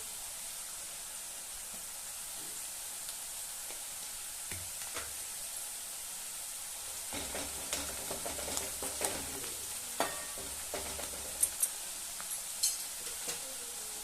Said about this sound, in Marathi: आता कांदा चांगला भाजलेला आहे.